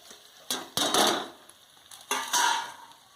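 Chopped onion goes into a pan already frying capsicum with ginger and garlic, for a soyabean chilli; two bursts of close sizzling and stirring rise and fade over a quiet background.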